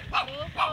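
A dog at a beach resort gives two short, near yipping barks in under a second, with background noise and possible voices.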